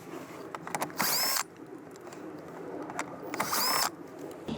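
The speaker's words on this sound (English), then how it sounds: "there's gonna be two 10mm bolts on this side we're gonna remove." Power drill or impact driver running in two short bursts, about half a second each and roughly two seconds apart, backing out 10mm bolts on a 2013-2017 Lexus LS interior during a CarPlay install; loud whirring with quiet handling noise between.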